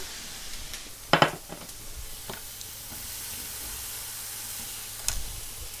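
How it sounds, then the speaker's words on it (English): Vegetables hit a hot pan with a soft, steady sizzle and hiss, marked by a sharp crackling burst early on and another brief flare near the end. "take your vegetables into the hot pan."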